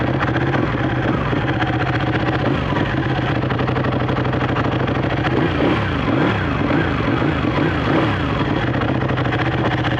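A Ducati 1199 Panigale, not yet warm, idles with a steady, dense, thuddy engine rumble that stays loud and even throughout, with no talking.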